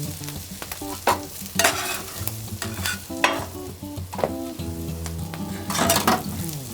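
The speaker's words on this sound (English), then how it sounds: "Toast our buns, a couple of nice hoagie rolls." Onions and brisket cooking on a flat-top griddle as hoagie rolls go down to toast, a lively sizzle broken by loud metal spatula scrapes and clanks, close and busy, with no talk.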